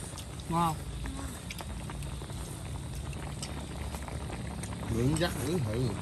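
Beef and pork hotpot bubbling away in a pot on a rainy day, a steady simmering boil under the meal, with voices talking over it.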